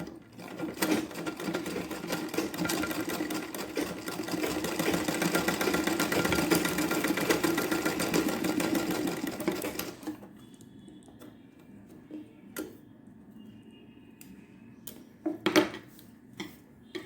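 A sewing machine stitches a blouse latkan in a fast, even mechanical whir for about ten seconds. It then stops, leaving quiet handling clicks and a few brief bursts of motor noise.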